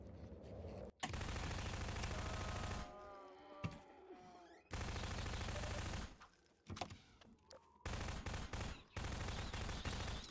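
Gunfire in Half-Life 2, loud bursts of rapid shots and heavy single blasts in clusters, broken by brief quiet gaps and scattered impact clatter.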